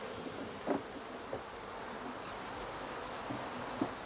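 Bees hum around a beehive on Dartmoor in summer, a faint, steady buzzing drone broken by a few soft rustles and taps, with no speech.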